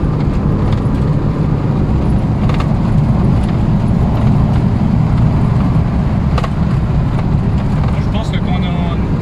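A Volkswagen Golf 1 GTI fitted out as a rally car drives along with a steady, loud engine and road drone, plus rattles from its added rally equipment, running continuously throughout.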